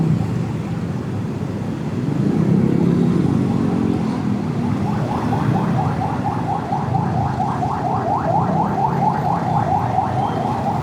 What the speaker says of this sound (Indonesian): Ada ambulan guys.